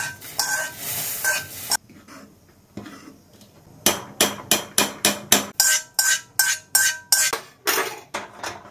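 Ingredients being stirred into boiling milk for payesh, a run of sharp rhythmic clinks and scrapes of a spoon against the pot, loud and close, after a quieter stretch of bubbling and rustling.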